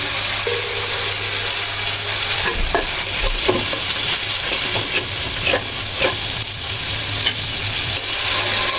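Spices frying in oil with salt and red chilli paste in a pan for a boal fish bhuna, a loud close sizzle with steady stirring scrapes and clinks of the spoon, no voices over it.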